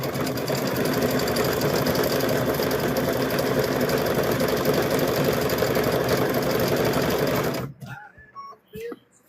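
A sewing machine stitching down coiled rope, a loud, steady mechanical whirring hum running near continuously for most of the clip before it stops abruptly, leaving quiet handling noises.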